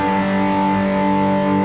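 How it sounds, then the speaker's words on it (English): A heavily distorted electric guitar chord rings out loud and sustained with thick, saturated tone, held steady throughout without any talking. "So if I add a lot of distortion, like this,"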